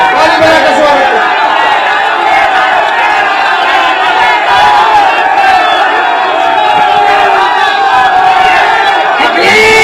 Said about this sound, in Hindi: ताली बजा के स्वागत करें।